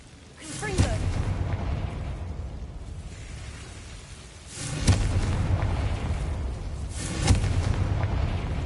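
Confringo fire spell explosions in the Hogwarts Legacy video game, three heavy booms spaced a few seconds apart, each followed by a sustained rumbling roar.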